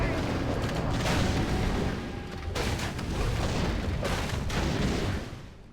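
Mortar teams fire in Warcraft III amid a dense, continuous wash of battle noise, with heavy booming shots and rumble throughout and a caster talking over it.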